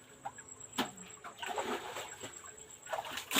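Water sloshes and splashes in short irregular bursts as freshly harvested spinach greens are rinsed of soil by hand, a close, moderately quiet sound with a faint bird in the background.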